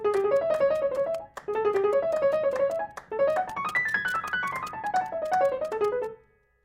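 A solo piano plays a Chopin right-hand line slowly, a steady stream of single notes rising and falling in connected phrases, clear and close with no other sounds.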